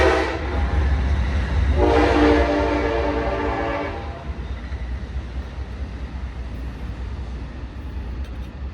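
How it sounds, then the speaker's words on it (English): A passing train sounds its horn loudly for a couple of seconds, then a steady rumble of rolling railcars continues alone. "We're going to do a little pause for the little train."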